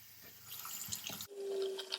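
Tap water runs into a bowl being filled for an ice bath, with a brief splash and drip followed by a steady, close stream.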